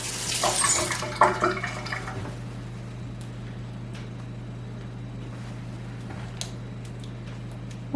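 Water runs from a kitchen tap into an emptied pasta sauce jar while making a meatball pasta bake, a steady broadband hiss starting with a louder splashy burst and then settling into a softer, even flow.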